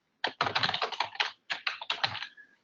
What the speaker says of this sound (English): I can quickly start just typing an address in there